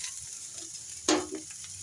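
Fish roe sizzling in a pan with chopped onion, a soft steady frying hiss with a brief louder sizzle and stir about midway, close and quiet, no talk.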